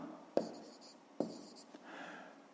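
A pen scratches on paper as a math answer is written by hand, two short distinct strokes followed by softer scribbling, close and quiet with no speech.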